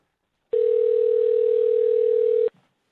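A phone dial tone after a dropped call: one loud, unbroken tone holds steady for about two seconds, then cuts off abruptly, followed by a faint click.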